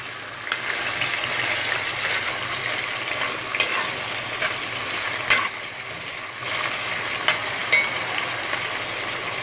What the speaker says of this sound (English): We're just gonna let it saute a little bit.